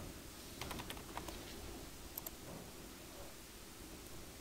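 Quiet typing on a computer keyboard, a short flurry of soft clicks over faint background hiss, then mostly steady noise.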